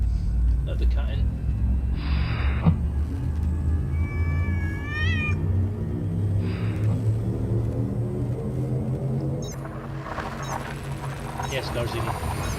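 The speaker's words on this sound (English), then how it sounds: "Let the cat in." A cat meows a few times over the constant low rumble of a vehicle engine, and voices talk intermittently.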